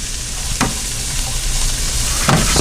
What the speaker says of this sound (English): So you just want to stir it around, make sure it doesn't burn.